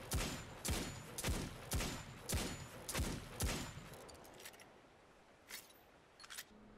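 An Agamid hand cannon fires in Destiny 2: five evenly spaced heavy shots ring out, followed by a quieter pause and two fainter bursts near the end.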